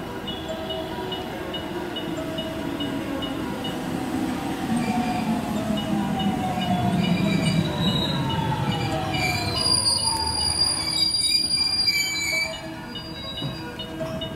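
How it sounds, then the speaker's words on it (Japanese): JR Kyoto Line local train, the night's last seven-car service, pulling into the platform at Nagaokakyō station: a steady rolling rumble with wheels squealing as it brakes, then a sharp hiss of air as it comes to a stop. "まもなく2番乗り場に0時53分発普通京都行きが7両で参ります。"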